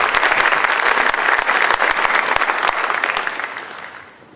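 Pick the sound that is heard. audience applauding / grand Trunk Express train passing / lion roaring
audience applauding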